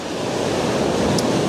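Ocean waves wash steadily over rocks along a rocky shoreline, forming a loud, continuous broadband surf roar with no voices.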